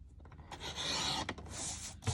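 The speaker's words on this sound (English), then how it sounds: "I'm going to trim just a slight tad more off the side here" Paper crafting scraps: the edge of a paper sheet is trimmed with a close, rasping cutting scrape in two bursts broken by a short pause, and nobody speaks.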